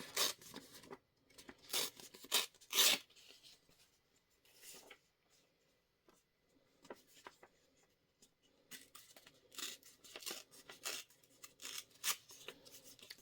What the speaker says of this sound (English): So I'm just going to trim that in half.